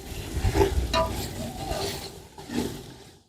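A spoon stirs black pepper through chicken chana pulao in a pot, giving a few close scraping, shuffling strokes against the metal with a faint sizzle underneath.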